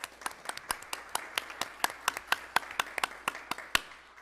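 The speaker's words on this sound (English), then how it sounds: "let's give them a round of applause" A small group at a school district governing board meeting claps for medal-winning students: sparse, distinct handclaps in an uneven rhythm, fairly quiet, with no crowd roar behind them.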